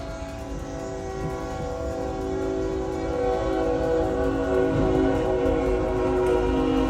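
A train at a level crossing sounds a sustained, multi-tone horn while it passes close by, with a low rumble of wheels underneath that grows slightly louder over several seconds.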